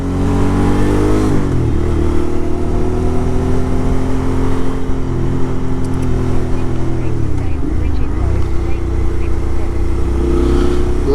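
BMW motorcycle engine heard while riding on the road, a loud, continuous close drone with wind noise, the pitch dipping and rising slightly as the rider shifts and accelerates; no talking is heard.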